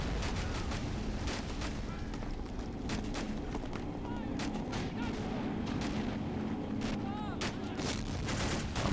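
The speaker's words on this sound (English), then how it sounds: "Our mortars are still at it." Mortar fire in the RobZ Realism Mod at Pointe du Hoc, a steady barrage of sharp blasts and thuds over rattling gunfire and rumbling explosions, dense and continuous, with a voice speaking amid the battle.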